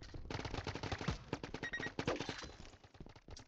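Rapid automatic fire from a paintball sentry gun in the video game Big Paintball 2, a dense, steady stream of close popping shots running without pause.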